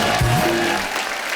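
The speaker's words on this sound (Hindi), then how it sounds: "जोरदार तालियां हो जाए।" A studio audience on The Kapil Sharma Show breaks into brief, loud applause as guests are welcomed, with musical tones and a short voiced sound over the clapping.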